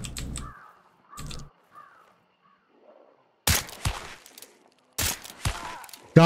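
Crows in the video game Hunt: Showdown caw several times in short, separate calls, followed by loud, close bursts of gunfire.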